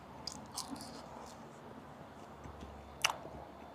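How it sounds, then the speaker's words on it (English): Faint bites and chewing into crunchy-outside, chewy house-made dough topped with chunky chorizo slices, with soft mouth noises and one sharper crunch near the end. "Got a good crunch on the outside."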